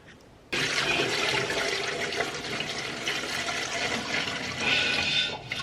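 Kitchen tap water gushes steadily into a sink during dishwashing while home canning of salsa and tomato passata goes on, a loud continuous rushing splash that starts abruptly and runs unbroken throughout.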